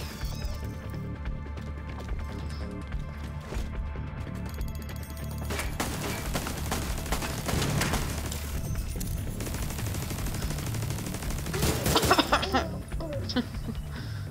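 Turret gunfire in The Division 2, a steady stream of rapid shots sitting under game music and effects, swelling into a louder burst near the end while a person talks over it.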